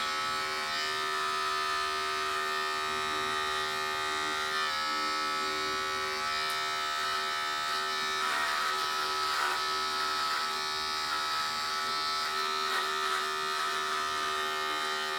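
Electric hair clippers run steadily while cutting hair during a basic back-and-sides haircut at home, giving a continuous close buzz with slight shifts in tone as the blades move through the hair, with no speech.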